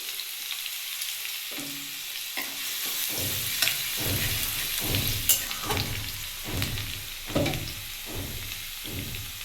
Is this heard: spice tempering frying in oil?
yes